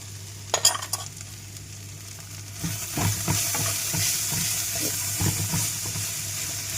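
Ivy gourd (kovakai) poriyal fries in a pan, a quiet steady sizzle broken by a few sharp clatters and then repeated spoon scrapes, close and fairly soft.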